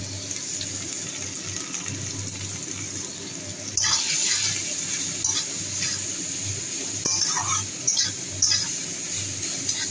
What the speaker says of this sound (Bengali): এবার বাকি মূলোটাও দিয়ে দিলাম জল ছেঁকে নিয়ে।